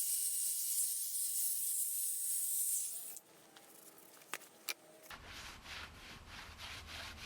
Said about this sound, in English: There's a little bit of surface rust on the back, so I'll run the wire brush on it.